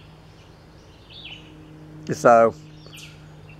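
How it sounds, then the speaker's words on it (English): A bird sings in the woods in a quiet forest setting, with a faint call early on and then a brief, louder burst of warbling chirps, followed by a short spoken word. "staring off into the woods, listening to bird song"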